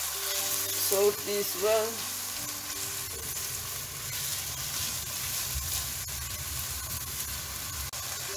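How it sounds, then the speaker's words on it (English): Onions frying with garlic and ginger paste in a cooker pot give a steady, close sizzle throughout, with a brief spoken line near the start. "After adding garlic and ginger paste, next we can add our onions."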